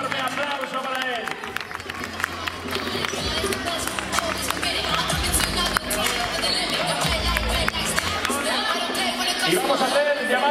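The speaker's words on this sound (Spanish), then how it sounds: "Enorme aplauso para él" A crowd claps and cheers for a cross-country race finisher at the Falces Cross Territorio Visón, a dense, continuous patter with an announcer speaking over it.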